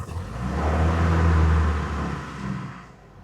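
A Land Rover Series 2a drives along a road, its engine droning with a low, steady hum that swells and then fades as the vehicle moves, with no talk over it.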